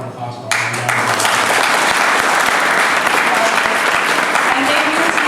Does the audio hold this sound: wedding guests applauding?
yes